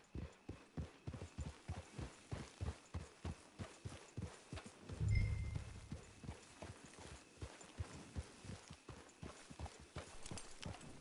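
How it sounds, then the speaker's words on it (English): A horse walks with a steady, even clip-clop of hooves in a western video game, the footfalls clear and fairly close, with a brief low snort or rumble midway and no talk. "It's your horse."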